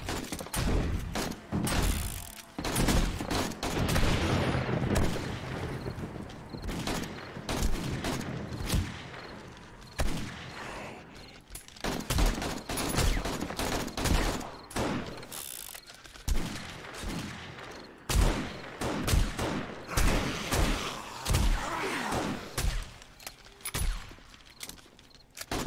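Rapid gunfire rings out against a zombie horde in 7 Days To Die on PC, dense bursts and volleys repeating across the stretch with brief pauses, loud and close with no talk.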